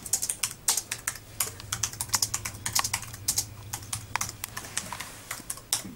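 Rapid, busy typing on a computer keyboard running a Linux desktop with a word processor, a steady stream of close key clicks with a low hum underneath and no talk.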